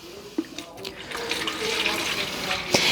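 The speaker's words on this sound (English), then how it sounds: "And I'm gonna fill it with water." Tap water runs steadily into a small watering can for diluting seedling fertilizer concentrate, making a close, continuous splashing rush with a few brief knocks and clinks.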